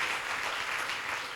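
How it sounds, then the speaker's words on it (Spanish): Church congregation applauding together in a sustained, dense wash of clapping that fills the whole stretch at steady loudness, with no voices over it. "Denle un aplauso al Señor"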